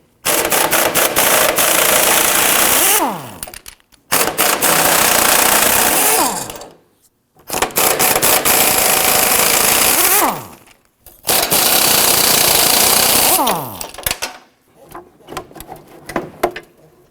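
A power tool removes the bumper nuts on a 2015-2020 Ford F-150, with four loud, close bursts of whirring, each lasting about three seconds and separated by short pauses.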